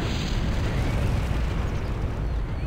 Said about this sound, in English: So now it's actually shooting it.